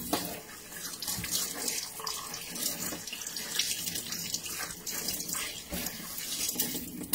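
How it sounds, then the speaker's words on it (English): Tap water runs steadily into a kitchen sink while fish is rinsed under it for Banga soup, a soft continuous splashing stream with no talk. "let's rinse the fish and place it here"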